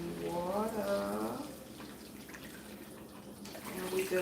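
Water poured from a cup into a sauce for spiked apple dumplings, a soft splashing pour heard close at hand as someone talks over the start and end.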